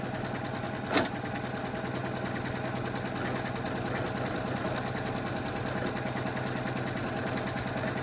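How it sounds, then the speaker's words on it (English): A Janome M7 sewing machine stitches at high speed, a steady, rapid mechanical chatter that runs unbroken throughout, with one sharp click early on and no talking. "So I could stitch it like this real fast."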